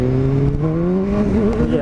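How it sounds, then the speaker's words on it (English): BMW S1000R motorcycle with ABS turned off, accelerating hard toward 100 as its engine note climbs steadily in pitch, loud and close under rushing wind. "Gonna give it a quick run up to 100, see if she lifts the front wheel or not."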